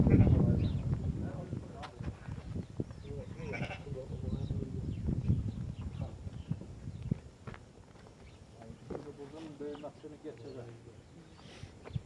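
Akkaraman sheep in a village livestock setting bleat several times, close and intermittent, mixed with shuffling and hoof sounds while people talk nearby.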